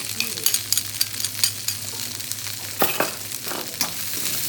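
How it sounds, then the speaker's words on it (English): Purple cabbage and grated carrots stir-fried in a hot pan, with a steady sizzle under repeated scraping and tossing strokes of a utensil, several sharp stirring clatters standing out near the end. "the goal is to soften up the cabbage and to keep it moving constantly"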